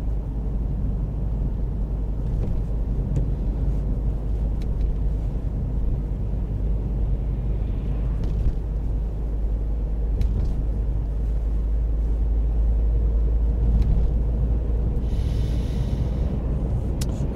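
Car interior drone while driving a 40 mph B road along Stone Street, a Roman road, with steady low engine and tyre rumble throughout and a few brief higher bumps and rattles.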